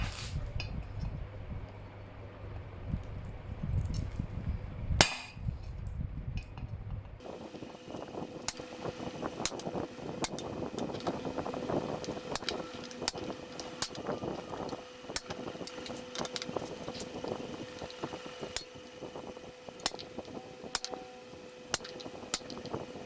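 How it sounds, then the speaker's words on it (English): A sharp cold chisel is hammered into a steel bascinet helmet to cut between drilled sections, giving repeated sharp metallic clinks and ringing strikes in an irregular rhythm over a steady background hum. "I'm going to take a cold chisel with a sharp edge, and I am going to now cold cut between the drill sections there"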